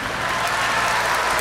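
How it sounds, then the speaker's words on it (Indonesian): An audience at a university public lecture applauds in a steady wash of clapping, fairly loud and continuous throughout the short stretch. "Tepuk tangan."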